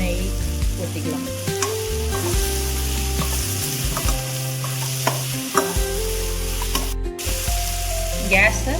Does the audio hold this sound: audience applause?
no